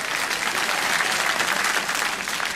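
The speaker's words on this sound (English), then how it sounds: "Give them a big round of applause." Loud, close audience applause at a live comedy show in a Dublin hotel, a thick continuous wash of clapping from a full room holding steady for the whole stretch.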